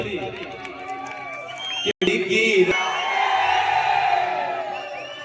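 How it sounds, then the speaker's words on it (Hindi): An audience at a Chhattisgarhi song performance whistles and cheers loudly, with rising whistles over dense crowd noise and shouting voices throughout. "एक बार जोरदार सीटी और ताली।"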